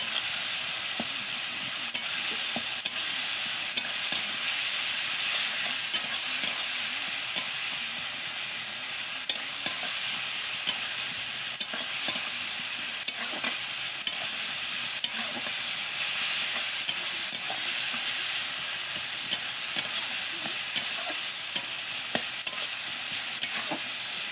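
Whole spices frying in hot oil for a rohu fish curry, a steady close sizzle with frequent light scrapes and taps of stirring throughout, no voices.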